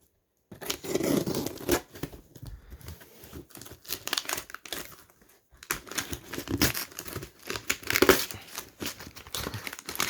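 Packing tape is torn and peeled off a damaged parcel box. Close, loud ripping and crinkling bursts come in uneven stretches with brief pauses, without talk.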